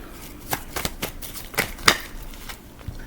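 Crisp riffling and snapping bursts of card shuffling, several quick flicks spread over a few seconds, close and fairly quiet.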